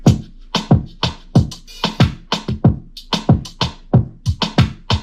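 Punchy Afrobeat-style electronic beat with a heavy kick and sharp, loud snare hits in a steady repeating pattern, with bright percussive accents between.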